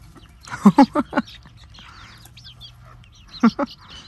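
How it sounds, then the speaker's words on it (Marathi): Two quick bursts of short chicken clucks as the chickens are fed coconut, several rapid notes then a pause and a couple more, fairly close against a quiet background. "मित्रांनो ह्या कोंबड्या पण खोबरं खातात"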